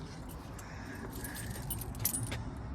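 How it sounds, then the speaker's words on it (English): Keys jangle and clink in a hand while someone hunts for a door key, a steady metallic rattle over low background rumble with a brighter clatter near the end. "what I do is find my key to open the door"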